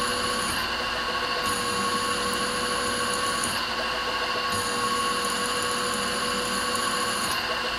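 Milling machine pecking a hole through a folding knife blade while milling a stop pin track, a loud steady high-pitched whine with bright tonal harmonics and slight shifts as the cutter feeds, close and continuous.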